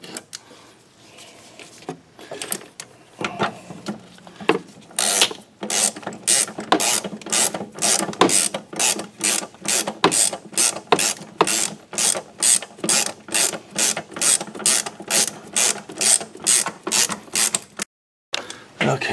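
A ratchet wrench tightens nuts on the master cylinder of a 2006 Chevy Silverado, clicking in fast, steady bursts of close, crisp pawl ticks that run almost continuously after a few slower strokes at the start.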